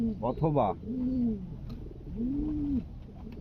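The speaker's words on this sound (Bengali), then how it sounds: "শুধু তাদের জন্য এই কবুতরটি যারা চিলা কবুতরকে পছন্দ করেন" A Chila pigeon coos in a few soft, rolling phrases close by, with a brief spoken word heard near the start.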